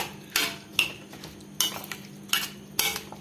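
A spoon working through a Kerala-style kadumanga mango pickle mixture, giving five or six separate scraping clinks and scoops against the dish at an uneven pace, close and fairly quiet, with no voices.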